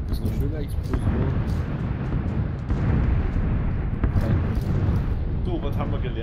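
A deep, rumbling explosion in PUBG rolls on for several seconds, with booming low-end bursts and people talking over it.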